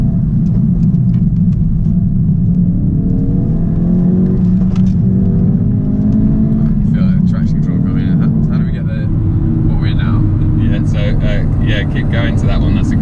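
A 2016 Ford Focus RS accelerating hard with launch control, its engine a steady loud rumble rising in pitch through the gears, heard from inside the car with people talking over it.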